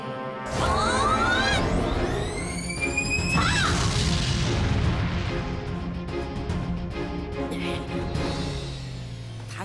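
An air-burst attack in a cartoon card battle erupts into a loud, rumbling explosion with rising whooshing whistles, sustaining for several seconds before tapering off.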